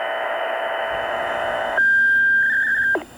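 Siren activation tones come over a radio: a steady buzzing carrier gives way to a sharp, loud tone, then a brief warbling beep before it cuts off abruptly.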